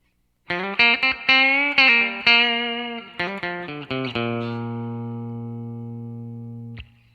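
Solo guitar lick of quick plucked notes with slides and bends, ending on a long ringing note that fades out, then a faint click.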